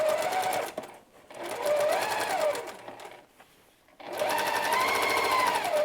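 A sewing machine stitches around a fabric book sleeve in two long runs of fast, steady whirring with a brief pause between, close and clear with no talking.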